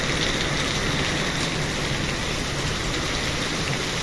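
Heavy out-of-season summer downpour with hail in a windstorm, a dense, steady roar of rain pounding surfaces close by, constant and loud throughout with no voices.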